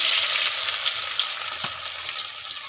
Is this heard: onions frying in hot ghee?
yes